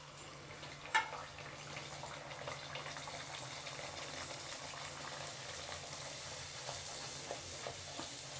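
Poori dough frying in hot oil, a soft continuous bubbling sizzle that starts with a brief splash as the dough goes in and then holds steady and fairly quiet.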